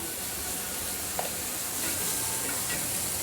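Onion sizzles in a pan with chillies already roasted in it, a steady hissing fry for a few seconds with a faint stir of a spatula partway through, close and unbroken, no voices.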